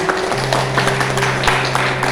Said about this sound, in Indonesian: Masya Allah, tepuk tangan Bapak Ibu semuanya